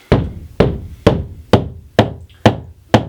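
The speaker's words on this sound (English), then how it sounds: "What you do is you keep hitting your wall and gradually make your way along it." Seven firm knocks rapped at a steady pace along a plaster wall while searching for a stud, each one a sharp, close thud with a short hollow ring trailing off, and no talking.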